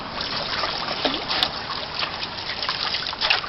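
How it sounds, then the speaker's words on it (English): Water sloshing and swirling in a gold pan while panning oiled material, a soft continuous trickling and splashing with faint ripples, close and fairly quiet. "Put a little bit of water in there, so you can see the water action"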